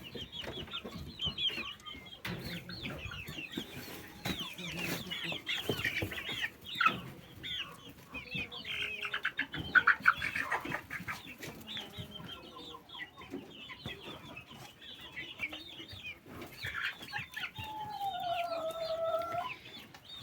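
A broody hen keeps clucking in repeated low bursts at close range, with other chickens calling around her and brief crowing-like calls in the farmyard.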